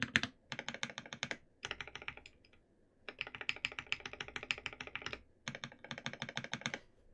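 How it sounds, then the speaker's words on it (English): Quick, crisp clacks from a mechanical keyboard with GMK keycaps and a 7U spacebar come in several rapid bursts separated by short pauses, close and fairly quiet. "This one's a bit louder. The spacebar."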